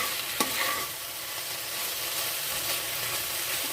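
Spices frying in a pan for the Bengali vegetable dish shukto, a bright steady sizzle with a sharp clink of a spoon early on, continuous crackling close up and no talking.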